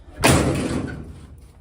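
The car door of a 1986 Monte Carlo swings shut with a single solid close-up thump, followed by a short fading rattle and quiet.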